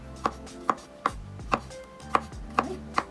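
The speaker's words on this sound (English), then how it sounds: "for my garlic, I'm slicing this into smaller pieces" A knife slices garlic into smaller pieces on a cutting board, giving seven sharp, close strikes at a slightly uneven pace with quiet gaps between them.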